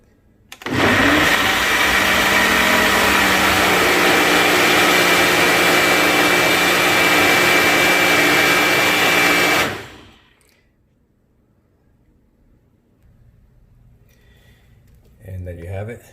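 A Ninja blender blends cucumber and ginger into a frothy drink, roaring loud and steady for about nine seconds before stopping abruptly, followed by near silence and a faint brief noise at the end.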